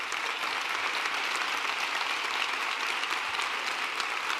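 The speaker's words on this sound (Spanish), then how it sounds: "os pido un aplauso cerrado para ellos y a ellas" Steady, dense audience applause at a political rally in Almería fills the whole stretch, loud and sustained with no pauses.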